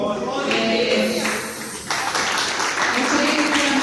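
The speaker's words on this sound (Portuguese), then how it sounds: "aplaudindo a palavra do Senhor" A church congregation applauds during a fasting and prayer service, a brisk, fairly close patter of many hands clapping, with voices faintly present underneath.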